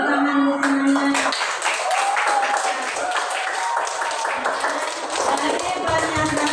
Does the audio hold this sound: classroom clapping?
yes